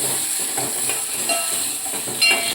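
Ginger, green chilli and garlic paste sizzles steadily in hot oil, a continuous bright hiss with faint stirring scrapes and a brief louder crackle near the end.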